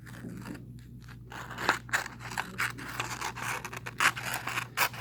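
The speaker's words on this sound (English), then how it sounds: "What I'm going to do is I'm going to cut the paper right on that red line right there." Scissors cutting loose-leaf paper along a red line, giving a string of crisp snipping and crunching strokes at close range, irregular and quiet, with no speech.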